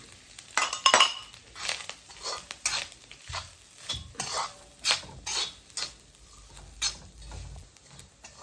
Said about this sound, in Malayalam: ഈ തേങ്ങ എത്രയും ഇതിലോട്ടിട്ട് വറുക്കണം